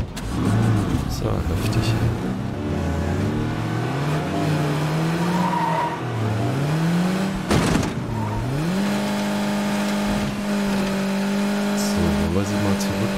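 A damaged car in the video game State of Decay 2 revs, its engine pitch rising and falling between gear shifts, with tyre squeals and a brief crash. People talk over the driving.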